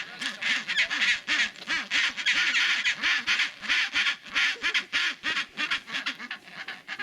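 A colony of chinstrap penguins calling during display on Halfmoon Island, Antarctica, gives loud, rhythmic, braying calls in rapid repeated pulses, several birds overlapping close by.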